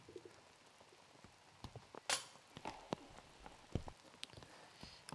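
Rain falling on a disc golf course during a women's final round: faint, scattered drips and taps on surfaces with a few louder nearby splats, while a dove coos softly in the background.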